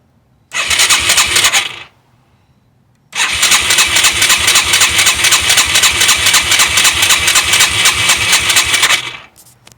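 A Yamaha XT225 motorcycle engine, with the choke pulled out slightly, catches briefly and dies after about a second. After a pause it starts again and idles loudly and steadily for several seconds, up close, before cutting off.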